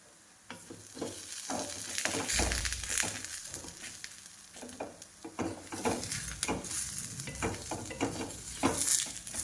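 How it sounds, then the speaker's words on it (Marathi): A moringa-leaf dhapata flatbread fries in oil on a hot griddle, producing a continuous crackling sizzle broken by repeated scraping and tapping sounds, with no speech. "आणि अशा प्रकारे तेल सोडून घ्यायचे आहे हे पहिलं धपाटा आहे"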